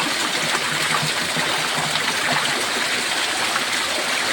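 Natural spring water flowing at a mini spring resort, a loud, steady rush of running water that continues without pause, with no voices over it.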